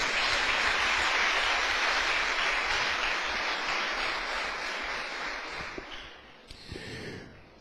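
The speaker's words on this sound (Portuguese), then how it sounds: "Uma salva de palmas para o Senhor Jesus." A church congregation applauds together in a dense, sustained wash of clapping that gradually thins and fades out toward the end.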